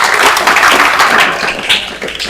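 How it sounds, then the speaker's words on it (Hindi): A group of children claps their hands together in a loud, dense burst of steady applause nearby, with no pauses throughout. "ताली बजाओ भैया"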